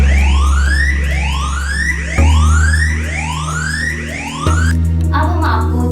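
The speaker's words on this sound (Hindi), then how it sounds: "तो आपके फोन में एक सायरन बजने लगता है।" A loud anti-theft security app siren blares from a phone, repeating rising wails in a steady cycle, up close with no talk over it.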